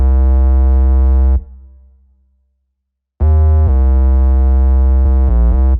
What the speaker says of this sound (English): this is the melody it plays, and this was made using a square wavetable and a sine wavetable